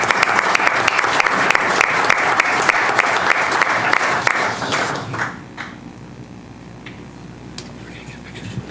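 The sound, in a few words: audience applause at city council meeting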